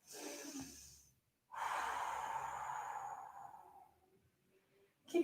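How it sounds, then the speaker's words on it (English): A person doing Pilates breathes audibly at close range: a short breath, a pause, then a long, airy breath that slowly fades, with no talking. "Inhale."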